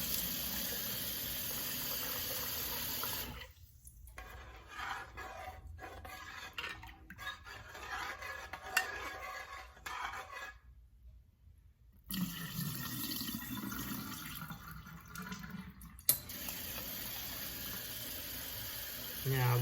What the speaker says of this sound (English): you're going to wash your grits about 4 or 5 times